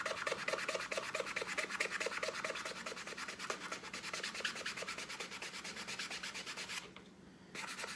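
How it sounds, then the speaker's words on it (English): A power sander scrubs stencil residue off an alcohol-ink decorated cup, giving a loud, steady, rapidly pulsing buzzing rasp close by that cuts out briefly near the end, then resumes. "So I'm going to take my sander, because I'm turning this into a peekaboo cup."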